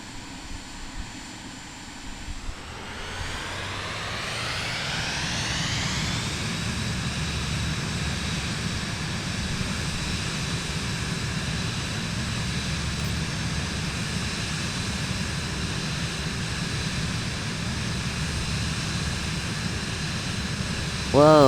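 Aircraft engine in the MSFS 2024 flight simulator spooling up for takeoff from runway 26, a steady loud roar with a rising whine that climbs over a few seconds and then holds, continuous throughout.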